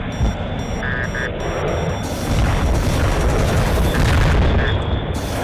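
Missiles downing fighter planes in a combat flight video game, a dense, continuous roar of booming blasts and gunfire-like bursts with brief beeping alert tones, loud and sustained throughout.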